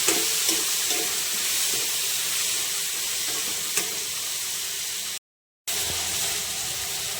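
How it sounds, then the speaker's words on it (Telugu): Tomatoes and softened onions fry and get stirred in a pan for a village-style tomato and egg curry, giving a steady loud sizzle with light scraping, broken by a brief silent gap near the end. "టమోటాలు వేసుకొని మిక్స్ చేసుకోండి."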